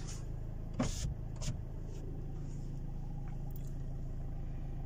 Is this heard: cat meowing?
no